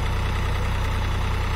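A Solis 5015E 50 hp power-steering tractor engine idles close by, a steady low rhythmic diesel chug with even pulses throughout and no talking.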